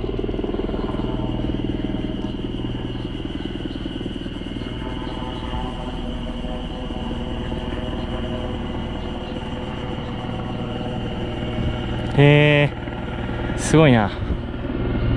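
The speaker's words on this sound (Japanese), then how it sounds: "ヘリが来るそうですね" A steady low rotor drone from a helicopter flying overhead on Mount Kumotori fills the clip, with a person briefly exclaiming over it and a couple of sharp tonal chirps near the end.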